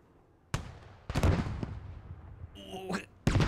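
Sharp, loud cannon shots from a BMP infantry fighting vehicle in the video game Squad: a few separated blasts with rumbling tails, plus a brief mechanical whine in between.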